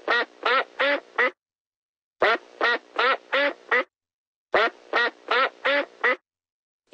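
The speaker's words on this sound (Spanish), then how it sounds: "El pato." Repeated duck quacks arrive in three bursts of four to five calls each, separated by short silences, loud and close with no talk over them.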